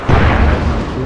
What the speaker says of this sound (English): See if I can throw a nade over there and get that guy.